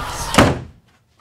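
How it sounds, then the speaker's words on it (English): A door slams shut in one loud, close thud with a brief rattle, then fades to near silence. "these demons need to learn how to close a goddamn door!"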